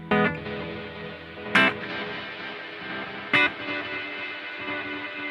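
An electric guitar runs through a BOSS GT-1000 with reverb and delay: ringing chords with a few sharp strummed attacks whose tails linger and repeat softly, with no talk.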